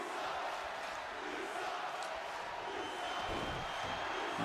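Wrestling crowd at an e-fed tag team match, a steady roomful of murmuring and scattered shouts that swells near the end, with no clear cheer or chant standing out.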